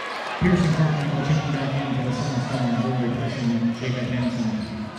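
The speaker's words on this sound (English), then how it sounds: "Rowdy sounds from the Summit crowd." Rowdy high school basketball crowd at a Summit versus Roosevelt boys game, a loud sustained roar of voices filling the gym, with sneakers and play noise underneath.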